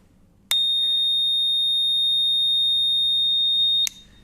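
A black box speaker switched on gives a steady, shrill single-note electronic tone that holds unchanged for about three seconds, then cuts off abruptly, loud and alone without talk.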